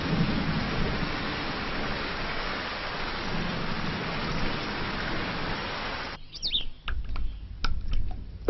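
Heavy rain pours in a dense, loud wash during a thunderstorm, with deep thunder rumbling underneath; near the end the downpour drops away, leaving low rumbles and scattered bird chirps.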